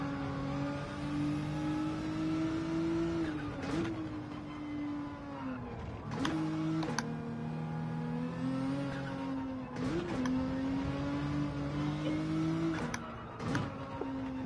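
A Nissan GT-R engine in the Gran Turismo 7 racing game holds a steady high drone, rising and falling with brief dips at gear changes or lifts roughly every three seconds, heard alone without talk.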